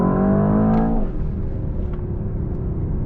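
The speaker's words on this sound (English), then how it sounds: "we can try the race start once again" A 2024 Mercedes-AMG S63 sedan with an 800 hp V8 doing a race-start launch: a loud, rising engine howl for about a second, then a sudden drop into a lower, rougher drone as it shifts and pulls away.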